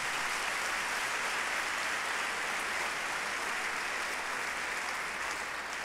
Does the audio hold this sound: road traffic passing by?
no